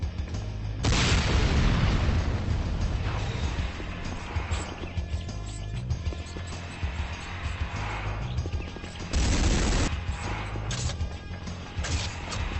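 Ceiling-mounted guns in the video game Renegade fire in loud, dense bursts of crashing, booming gunfire, with a heavy barrage at the start, a steadier clattering stretch in the middle, and another intense burst near the end.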